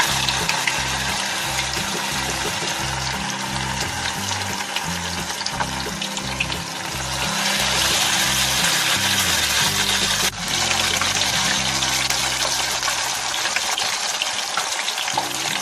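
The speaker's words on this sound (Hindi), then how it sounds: "पनीर को हम अच्छे से फ्राई कर लेंगे दोनों साइड से।" Paneer pieces dipped in slurry frying in hot oil, a loud, continuous, dense hiss and crackle that holds steady throughout and swells slightly around the middle, with no talking.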